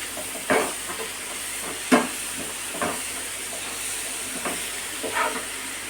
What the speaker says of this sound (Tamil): இப்போ நல்லா நம்ம வதக்கியாச்சு